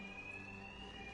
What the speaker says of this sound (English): these thugs can't hear a thing over the alarm.